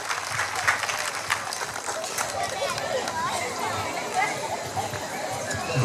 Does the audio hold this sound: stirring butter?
no